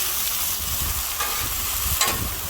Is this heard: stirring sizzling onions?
yes